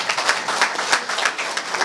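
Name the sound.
audience clapping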